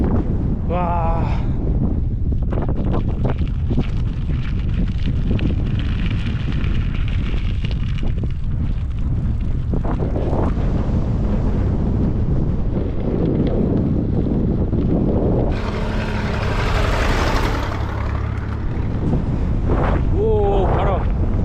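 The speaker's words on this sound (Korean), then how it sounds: "오, 바람." Strong wind on a mountain road at about 1300 m altitude during a bicycle trip, roaring loudly and continuously across the microphone, with brief voices heard faintly under the gusts.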